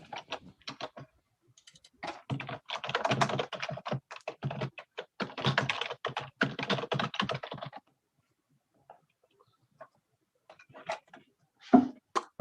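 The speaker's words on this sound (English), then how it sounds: "I need to get a keyboard that makes less noise so that I can take notes." Rapid clacking keystrokes on a loud computer keyboard come in dense bursts with short pauses, close and alone, then a quiet stretch and a few scattered taps.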